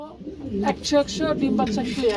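Pigeons coo, a few soft, close calls repeating in short phrases, with people talking over them among birds kept for sale.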